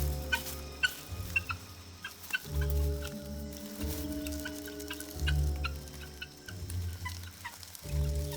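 A wild flock of guinea fowl calls out in repeated clucking, chattering bursts, many birds overlapping at close range over a low, shifting background drone, with no talking.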